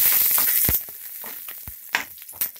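Curry leaves, chana dal, urad dal, mustard seeds, cumin and chillies frying in oil over a medium flame: a loud, bright sizzle for the first moment, then a softer crackle with a few spoon scrapes and stirs.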